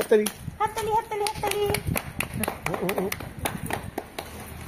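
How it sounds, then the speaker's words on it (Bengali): A small family group claps together right after singing a birthday song, sharp hand claps repeating irregularly through the clip, mixed with voices and someone speaking nearby. "হাততালি"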